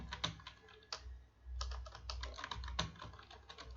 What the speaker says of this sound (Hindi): यहाँ पर मैं फाइल नेम टाइप कर देता हूँ।